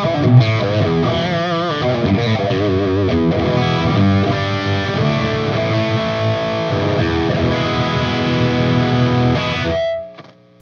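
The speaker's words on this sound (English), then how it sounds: "The distortion circuit, and it's got a bass and treble on it." An electric guitar runs through an overdrive distortion circuit on a breadboard, built around a 4558 chip with bass and treble controls. The playing is continuous, fuzzy and close, with no voice, and ends in an abrupt cutoff near the end.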